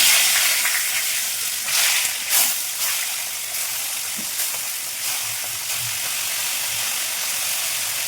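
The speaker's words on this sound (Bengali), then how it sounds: "তেলটা আমার গরম হয়ে গেছে এবার আমি দেব মাছ একটা একটা করে মাছ ছেড়ে নেব" Pieces of bhola fish sizzle steadily in hot mustard oil, a loud, dense crackling hiss that runs throughout, with a few brief sharper pops and spatters and no voices.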